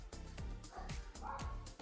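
A person imitates a dog barking with a voice, giving about four short, loud, close bark-like yelps in a steady rhythm, set during a PC build with a Corsair Frame 4000D case.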